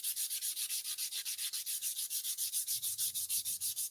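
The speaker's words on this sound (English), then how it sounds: "I always preferred wet sanding versus dry sanding" Wet sanding of automotive clear coat by hand with 400 grit sandpaper, a rapid rhythmic swishing of back-and-forth strokes, close and steady throughout.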